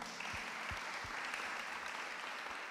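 A congregation at a Friday prayer meeting applauds in a continuous, fairly faint wash of clapping, with a few sharper individual claps standing out and no talking over it.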